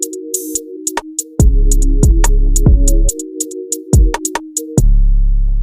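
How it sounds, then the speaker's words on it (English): Synth chords from the Serum plugin in a remake of a track, sustained tones changing every second or so, punctuated by sharp percussive hits and deep bass thumps, loud and without voices. "These are coming from Serum."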